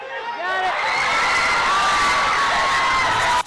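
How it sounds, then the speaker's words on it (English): A crowd cheers and whoops loudly and continuously, with excited shouting sustained from start to finish before cutting off abruptly. "The crowd goes wild."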